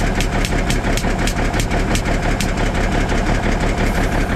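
A smoking vehicle engine idles steadily while warming up on a cold start, with a loud, even rumble and a regular pulsing beat throughout, no talking.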